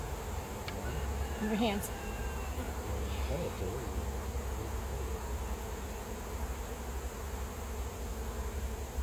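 Honey bees hum steadily around an open hive while frames are lifted during a honey harvest, a dense close buzz running throughout with a few brief louder passes as people speak nearby.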